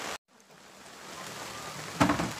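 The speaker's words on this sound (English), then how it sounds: "it's raining pretty good, and it's going to continue to do so for the next 24 hours at least." Steady rain falls at a riverside campsite on a canoe trip, a broad continuous hiss that builds gradually after a brief gap, with a short louder patter near the end.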